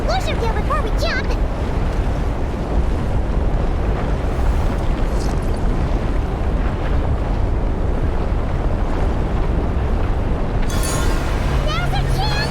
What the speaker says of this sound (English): The storm's raging out there!